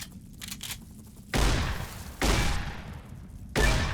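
Three heavy booming blasts from a pulse shotgun in Fallout New Vegas, each a loud thumping shot with a long rumbling decay, spaced roughly a second apart over a low background hum.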